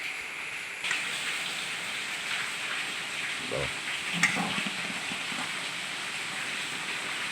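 Steady rain on a cold, wet day falls as an even, continuous hiss, with a few faint knocks and thuds near the middle and no voices.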